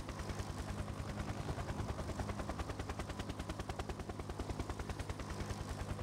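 Rapid, steady mechanical chopping and rattling from a helicopter in the factory-building game Factorio, loud and continuous throughout, with dense gunfire-like pulses and no talking.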